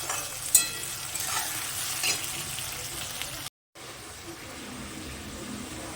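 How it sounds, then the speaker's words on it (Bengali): Onion and tomato frying in a pan make a steady close sizzle with stirring scrapes and a clink near the start, broken by a short silent gap before the frying resumes. "একটু ভাজা হোক পেঁয়াজ আর টমেটোটা"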